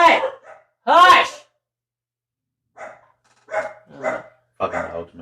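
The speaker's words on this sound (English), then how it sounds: "Fucking dogs, man." A dog barks in a few sharp bursts at an outdoor spot at night, loud and close, separated by gaps of quiet, with people talking and shouting at it in between.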